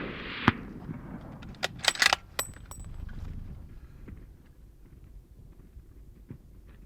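A single sharp rifle shot on a giraffe hunt in Namibia, taken at long range. It cracks once near the start and is followed by a few clicks and handling knocks, then outdoor ambience.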